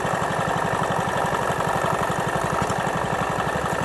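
A smoky old 1940s Wolseley stationary engine runs steadily, setting up to drive an old mixer by flat belt: a rapid, even low chugging pulse under constant mechanical clatter and hiss, loud and close with no talk.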